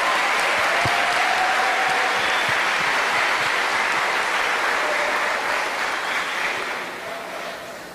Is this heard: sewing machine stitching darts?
no